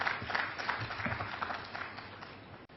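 Audience applause at a post-budget dialogue for financial year 2026/27, a fairly faint, steady patter of clapping from a seated crowd that holds for a few seconds before cutting off.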